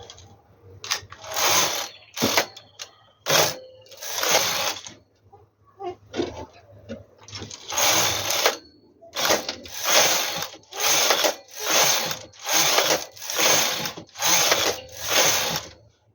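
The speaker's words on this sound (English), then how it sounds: "So right now I'm going to decrease 2 and knit 10 rows." A knitting machine carriage is pushed back and forth across rows of a baby sweater, making loud rhythmic ratcheting sweeps, each a second or so long, close-up with short pauses between passes.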